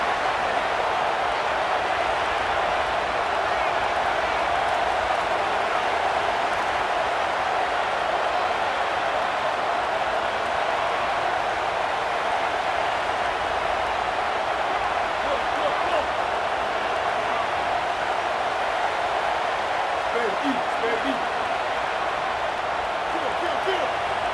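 Stadium crowd in a college football video game, Ole Miss against Texas, roaring steadily and loudly throughout, a dense sustained wall of noise from a packed stadium.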